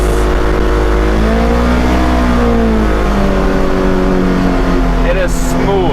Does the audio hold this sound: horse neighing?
no